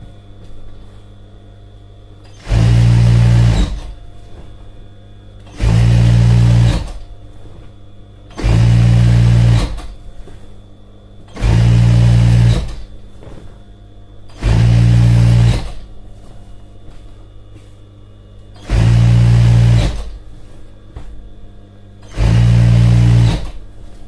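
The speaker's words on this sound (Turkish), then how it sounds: "Şu an diğer tarafını dikiyorum." A sewing machine stitches the edge of a single duvet cover set, running in seven loud, steady bursts of a few seconds each, separated by short pauses with a low hum between them and no talking.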